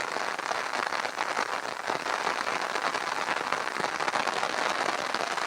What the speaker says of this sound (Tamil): கனமழை பெய்து கொண்டிருக்கிறது.